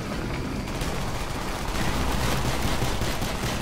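Dense, continuous gunfire crackles and rumbles without pause in the video game Call of Duty: Black Ops, a loud wall of rapid shots and booming impacts.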